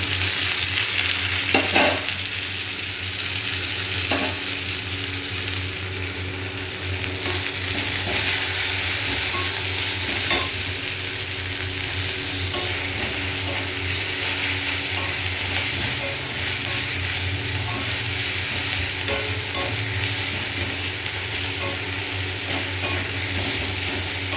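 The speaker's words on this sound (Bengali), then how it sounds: "পেঁয়াজটা একটু ভাজা ভাজা করে নেব" Onions fry in a pan with spices added, giving a continuous, even sizzle throughout, with occasional soft scrapes and knocks of stirring and no voices.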